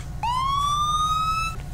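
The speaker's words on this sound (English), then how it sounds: "Stop bleeping your goddamn siren" A police car siren in the GTA V video game gives a single rising electronic whoop that sweeps up and holds steady for over a second, loud and close over a low engine rumble.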